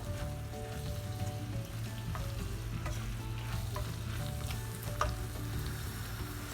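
Paneer fried rice being stirred in a hot pan, with a continuous sizzle beneath scattered scraping and clinking of the utensil against the pan at close range and no talking.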